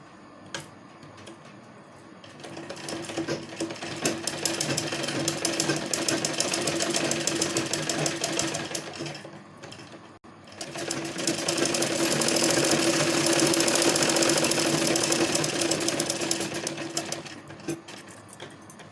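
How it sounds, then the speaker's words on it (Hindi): A sewing machine stitches the seams of a lined kurti in two long, steady runs of rapid needle ticking, close and clear, with a short pause between them. "इस तरह से दोनों कट को मिलाऊंगी और मिलाते हुए मैं इस पर सिलाई लगाऊंगी।"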